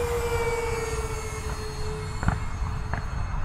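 A Freewing Lippisch P.15 model jet with a 64mm electric ducted fan flies overhead, giving a steady whine with a slowly falling tone over a broad airy rush, a few faint pops in the background.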